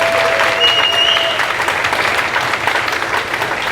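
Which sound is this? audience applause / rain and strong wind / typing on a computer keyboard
audience applause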